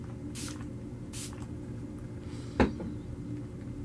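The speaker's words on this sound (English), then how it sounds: "I think I'm gonna just set all my face products with my Urban Decay De-Slick setting" Two short hissing bursts of Urban Decay De-Slick setting spray onto a face, close by, then a small click and a brief rustle against a low steady hum.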